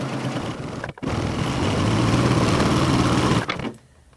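A PFAFF admire air 7000 coverlock machine stitches a three-thread rolled edge with a steady close mechanical whir, briefly pausing near the one-second mark, then running until it stops at about three and a half seconds.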